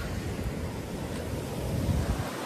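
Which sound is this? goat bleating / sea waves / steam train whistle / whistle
sea waves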